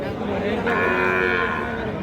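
A Sahiwal bull moos loudly and close by, one drawn-out low call over steady background noise from a busy outdoor cattle market.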